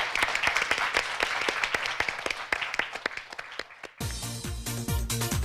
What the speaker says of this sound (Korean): 두 학생에게 박수 한번 부탁드리겠습니다.